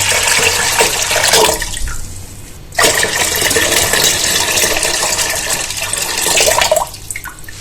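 About 2.5 litres of water pour into a cooking pot of wheat for traditional Greek varvara (ashure), making a loud, continuous splashing and filling sound up close with a brief dip midway.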